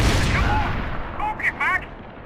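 Gunfire in Max Payne 3 arrives as a loud, booming burst that decays into a rumbling tail, with a voice shouting briefly over it toward the end.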